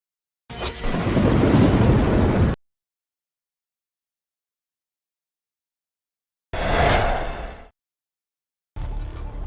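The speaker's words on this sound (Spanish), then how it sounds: "¿Solo es un trueno?" Heavy, close thunder crashes in separate bursts: a long two-second roar, a shorter clap after a few seconds of silence, then another rumble starting at the end.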